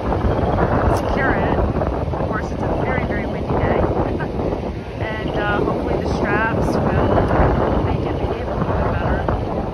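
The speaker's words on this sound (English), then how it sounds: "it's a very, very windy day" Strong wind buffets the microphone on a very windy day as a chicken coop is moved onto a farm, a loud continuous roar with gusts, with faint higher mechanical whines cutting through now and then.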